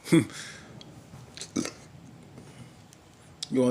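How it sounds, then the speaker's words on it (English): A short burp from a person in a room, heard once at the start and again near the end of the clip, with some quiet background noise between the two. "Sorry for the burp."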